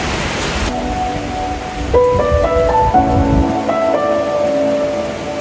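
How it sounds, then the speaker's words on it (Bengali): Rain begins to fall as a steady, even wash of broadband patter through the whole stretch. A few sustained tones ring over it, and no one talks. "বৃষ্টি শুরু হয়ে গেছে।"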